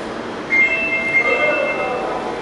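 A Kintetsu electric train bound for Yamato-Saidaiji runs with a steady low rumble and a high, sustained whine rising from it, close by and continuous.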